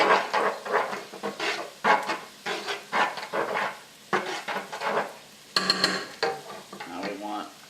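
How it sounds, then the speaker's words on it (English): Garlic and spices being stirred into turkey chili in a pot, a run of short scraping, clattering spoon strokes close by, some with a faint sizzle, and no talking. "Stir this in."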